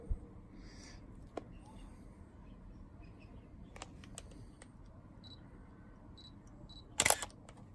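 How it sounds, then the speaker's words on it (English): A single-lens reflex camera emits a faint focus-confirmation beep while focusing on infinity, a few soft electronic chirps over a quiet room hiss, followed near the end by a brief louder mechanical burst. "when you focusing on infinity, look, you hear confirmation sound"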